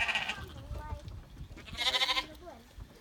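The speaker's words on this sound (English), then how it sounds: "I think you've got two scaredy sheep there." Sheep bleat nearby while boarding a boat on Scalpay Island, Scotland, a couple of wavering cries separated by a short pause, with low rumbling background noise.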